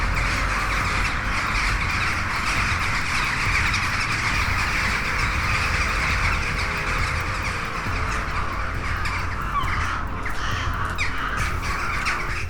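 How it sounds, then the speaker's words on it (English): A flock of invasive birds squawks and caws nonstop, a loud, dense chorus of harsh overlapping calls that holds steady throughout, with faint traffic-like rumble beneath and no talking. "These invasive birds, with their numbers exploding to over 200 million, are wreaking havoc across farms,"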